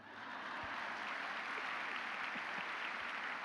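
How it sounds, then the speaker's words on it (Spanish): Applause from a live comedy show audience in Cancún, a steady broadband wash of clapping that holds evenly for a few seconds at moderate level, with no voices over it. "Gracias por sus aplausos."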